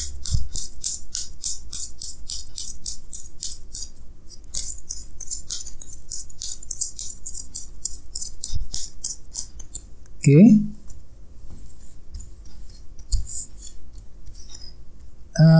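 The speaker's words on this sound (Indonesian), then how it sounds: "di sini saya akan menarik 2 kartu tambahan lagi" Tarot cards being drawn from a deck during a reading, with light papery shuffling and flicking sounds and one brief sharper handling noise midway. Soft speech is heard around the card sounds.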